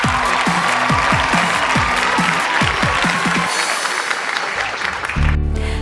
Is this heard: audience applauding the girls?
yes